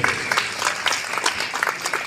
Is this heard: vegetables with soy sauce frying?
no